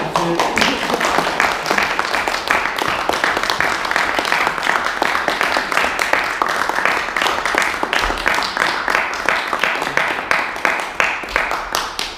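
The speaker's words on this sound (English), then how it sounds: "Yes, give them a round of applause." A room of Toastmasters members and guests applauds new members at a student Toastmasters meeting, with dense, steady clapping close by that continues for about twelve seconds and tapers slightly at the end.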